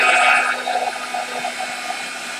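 A heat tool blows hot air over a scrapbook craft layout in a steady, close, breathy whoosh that lasts a couple of seconds. It is loudest at first and eases slightly with small fluctuations. No voices.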